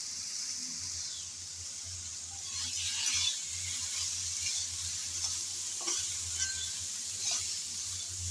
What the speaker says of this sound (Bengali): আমি পরপর কয়েকবার এসে এসে ভালোভাবে নেড়ে চেড়ে ভেজে